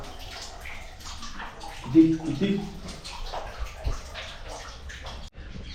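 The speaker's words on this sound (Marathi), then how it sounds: "पाणी हौदान पाणी पडलेलं दिसतं तुम्हाला" Water pours steadily into a stone tank at a temple with a continuous rushing, splashing wash, while a person speaks briefly over it.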